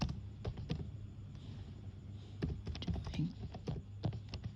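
HTML text being typed on a computer keyboard, a fast irregular run of close, light key clicks over a low steady room hum.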